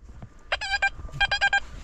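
A metal detector signals a buried target during digging, giving one series of short, tonal electronic beeps and then a second series, fairly faint over quiet outdoor background.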